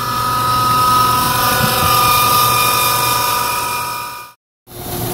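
A steady sprinkler pump motor drone with a humming tonal whine runs continuously, cuts out abruptly for a moment, then starts up again; the motor has newly replaced bearings.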